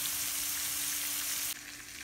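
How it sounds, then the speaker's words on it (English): Onions sizzle and fry steadily in a pan, a dense continuous hiss that stays loud and even, then drops slightly in level near the end. "The onions cook for about a minute."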